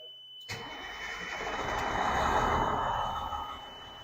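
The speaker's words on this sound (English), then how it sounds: "At this time, I'm going to restart the engine." A fire engine's truck engine cranks and restarts after a brief quiet lead-in, then settles into a steady, fairly loud idle rumble that swells slightly and holds to the end.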